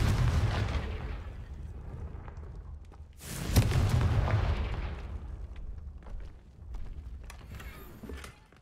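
Hogwarts Legacy's Confringo spell sets off a heavy rumbling blast that swells and fades, with a second booming burst and lingering crackle and debris after it.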